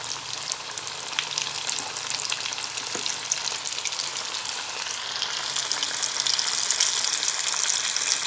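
Hot oil sizzles loudly and steadily around battered, flour-dusted pieces being fried, a dense close crackle with occasional louder spits and faint stirring or handling noises, no speech.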